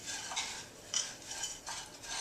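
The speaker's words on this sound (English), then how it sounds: "So I'm ready to go with giving this a little stir here" Summer fruit crisp filling stirred in a bowl, giving soft, repeated scraping and swishing strokes of a utensil that rise and fall in a few close passes, with no talk.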